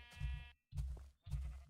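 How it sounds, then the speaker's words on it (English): Three bleats from a sheep in the video game Minecraft (Infdev), each roughly half a second long with short gaps between them, moderately loud and heard alone without talk. "Oh, I hear sheep."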